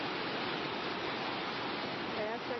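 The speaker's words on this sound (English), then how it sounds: "see a nice waterfall." Water pours down a waterfall in a dense, constant rush of broadband roar, loud and unbroken throughout.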